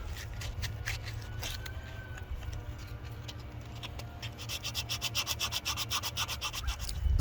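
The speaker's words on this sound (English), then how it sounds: "I just used some 80 grit sandpaper and just quickly went around and got rid of the sharp edges here" Hand-carved wooden walking staff being sanded with 80 grit sandpaper to round off sharp edges, close rhythmic scratchy rubbing strokes that quicken and grow louder toward the end.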